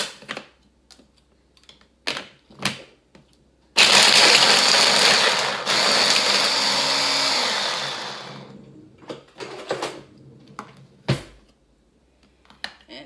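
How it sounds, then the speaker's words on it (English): A blender whirs loudly for about four seconds while blending an avocado salad dressing, then winds down, surrounded by scattered clicks and knocks before and after. "what I'm going to do is blend that up first"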